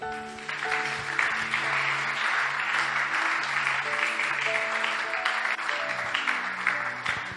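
A church congregation applauds the Lord at a fasting and prayer service, producing dense, steady clapping that holds loud for the whole stretch, with sustained musical tones from the worship band running underneath.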